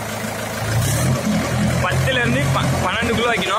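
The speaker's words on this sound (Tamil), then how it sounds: "இப்போ வந்து பார்த்தீங்கன்னா நம்ம வண்டி ஸ்டார்ட் பண்ணியாச்சு." A tractor engine runs in first gear with a steady, low, rumbling drone throughout, while someone talks continuously over it.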